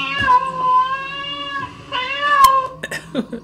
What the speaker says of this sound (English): We're stepping on the cat.